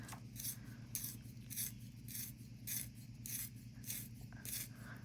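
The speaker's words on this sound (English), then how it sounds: "So I'm going to use this Dom's sharpener eraser combo that I've showcased in the past." A handheld sharpener-eraser combo works a new pencil with a faint, steady rasping grind, repeated in regular strokes about every half second over a low background hum.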